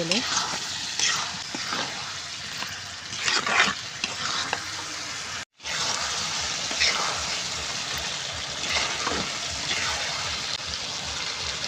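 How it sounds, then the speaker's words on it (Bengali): Pigeon meat being stir-fried in a pan on a clay stove in a village kitchen, with continuous sizzling and repeated scraping stirs, loud and close, after a brief cut. "এখন মাংস এখন ভালোভাবে কষাবো"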